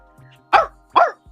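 A person's voice imitates a dog barking, giving two short, loud, close woof-like barks in quick succession.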